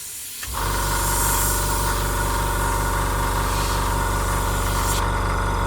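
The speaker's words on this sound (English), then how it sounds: "So I'm spraying over and away from the line." A spray gun starts up with a click and then hisses steadily over a humming compressor drone, loud and continuous, spraying paint on a Kinetic Harrier GR3 model kit.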